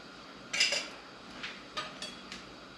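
A lid pulled off a container on a kitchen board while making cran-raspberry mousse, a short plasticky pop followed by a few light clicks and taps, close and quiet with no talk.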